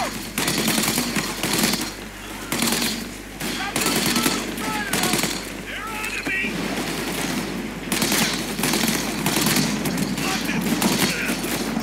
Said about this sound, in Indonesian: Tembak menembak sesama gangster.